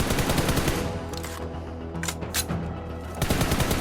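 Rapid automatic gunfire rings out during recoil practice at a video game training ground, a dense loud fusillade of shots running almost without pause, with a brief easing midway before full bursts resume.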